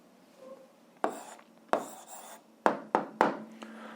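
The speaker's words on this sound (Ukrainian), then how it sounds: "Ну що ж, записуємо відповідь, пишемо відповідь." Pen or pencil writing an algebra answer by hand on paper, a handful of short scratchy strokes with pauses between them, close and fairly quiet, no voices.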